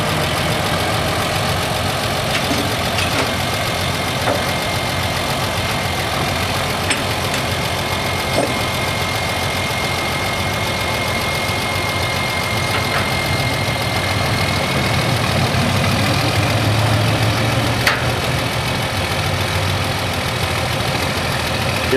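Tractor engine idling at low throttle as it backs onto spring-loaded trailer ramps at an outdoor farm equipment show, a steady mid-to-low engine drone throughout.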